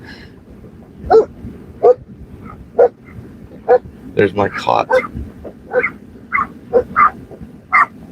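Several short dog barks ring out at a steady pace, nearby and fairly loud, with a person talking briefly between them.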